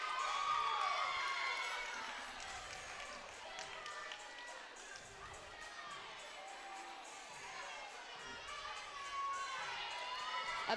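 Crowd at a college gymnastics meet in a gym, a mix of cheering and shouting voices from a peanut gallery near the bars, sustained and lively throughout with swells at the start and end.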